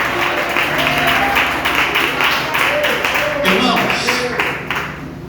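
A church congregation claps their hands during a night service, making a steady, dense patter of applause that runs throughout. Voices and some sung or spoken tones sound over the clapping.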